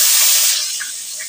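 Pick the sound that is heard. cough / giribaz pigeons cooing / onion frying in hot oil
onion frying in hot oil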